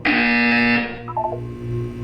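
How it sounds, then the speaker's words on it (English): A buzzer in the video game Portal 2 sounds as a loud, steady electronic alarm tone with a rich harmonic hum, holding for under a second before cutting off, followed by quieter low hum and faint chirps. "When you hear the buzzer, look up at the ceiling"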